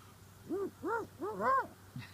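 A human voice imitates a hoot owl call, giving four rising-and-falling hoots in quick succession, close and moderately loud, during a turkey hunt.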